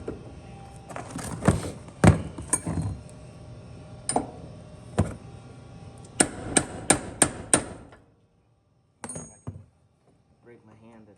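Hammer blows driving out a door hinge pin on a 1977 El Camino, a run of sharp metallic strikes at uneven spacing, closing with a quick rapid flurry of hits before a brief lull and talk.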